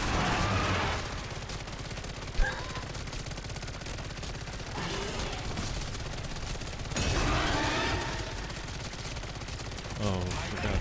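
Heavy automatic gunfire in Modern Warfare zombies mode, dense continuous bursts of shots with brief louder surges, loud and close, with a player voice faintly under the shooting.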